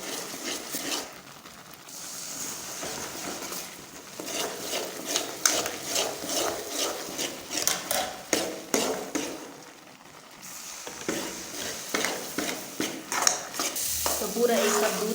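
Gram flour being stirred with milk in a pan, a continuous wet scraping and rhythmic spatula strokes with faint sizzling, close and moderately loud, steady through the whole stretch.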